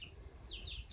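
A brown Silkie chicken gives a brief, faint cluck close by, a short chirpy call over low background rumble.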